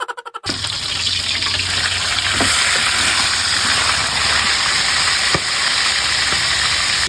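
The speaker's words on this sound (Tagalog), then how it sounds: "itong mga bangus naman ang aking piprituhin." Milkfish (bangus) sizzles loudly in hot oil, a steady close-up hiss that starts after a brief opening clatter and runs unbroken, with occasional pops.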